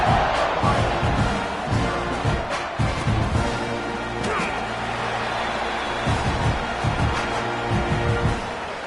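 Stadium crowd at a football game roars and cheers after a special teams score, a loud dense wash of voices with swells and shouts throughout.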